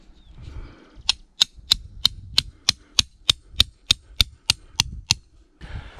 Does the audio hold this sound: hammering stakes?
yes